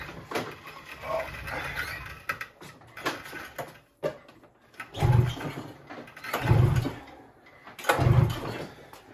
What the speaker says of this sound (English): So we're gonna fire this thing up now.